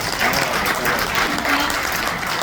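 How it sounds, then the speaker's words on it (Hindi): An audience in a studio applauds at a televised event, a full, continuous round of clapping at steady volume from start to finish. "तालियां इस वक्त जो बज रही हैं"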